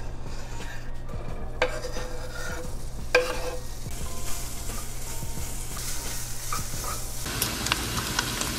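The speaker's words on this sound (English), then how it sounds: "So that bacon is getting nice and crispy." Chopped bacon pieces fry in a hot pan with a continuous close sizzle, punctuated by utensil scrapes and clinks against the pan as it is stirred.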